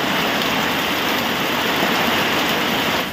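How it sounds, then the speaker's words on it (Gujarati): A heavy monsoon downpour roars steadily, a thick continuous hiss of rain striking surfaces nearby, loud and unbroken for the whole stretch. "મસ્ત જોરદાર વરસાદ ચાલુ થઈ ગયો છે."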